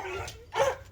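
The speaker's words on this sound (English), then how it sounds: "the dogs are barking" Dogs barking at home as their owner returns after a night away, a couple of sharp close barks with a louder burst midway through the short moment.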